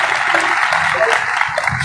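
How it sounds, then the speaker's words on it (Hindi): Steady applause from a crowd at a Constitution Day political rally in India, a dense wash of clapping that holds evenly throughout without pause. "जोरदार तालियां"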